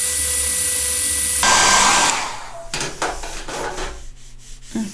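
A hair dryer blows steadily on a watercolor painting with a loud, even whoosh, then cuts off after about two seconds, followed by a few light knocks and rustles.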